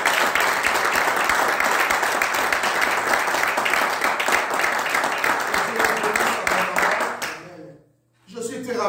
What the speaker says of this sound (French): Acclame très fort les Seigneurs